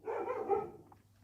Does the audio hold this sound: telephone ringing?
no